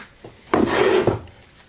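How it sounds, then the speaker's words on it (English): A sanding block rubbed across the rough edges of a handmade folded paper card, one short scraping stroke after a light tap, close and alone. "I'm gonna just bring in a sanding block to get rid of those rough edges"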